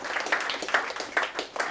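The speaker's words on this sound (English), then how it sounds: "You please give them a round of applause." Applause from the audience at a 9/11 service celebration evening, with individual claps standing out in an irregular patter; the sound is moderate and thin, suggesting a small crowd.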